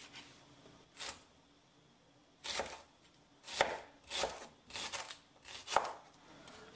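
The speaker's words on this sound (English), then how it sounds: "So I'll chop this up real quick and then we'll start blending." A knife chops shallot on a board while jollof rice is being prepared, giving about seven crisp, close knocks at an uneven pace, some in quick pairs, with no talking.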